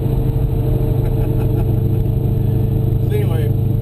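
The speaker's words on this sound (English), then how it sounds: "trying to drive a stick shift car that makes a lot of power out on the street and having a big time tearing up the road" A powerful 2003 Cobra with a stick shift drives down a street, its engine holding a steady, loud, low drone throughout.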